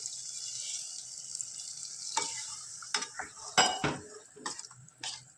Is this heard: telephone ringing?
no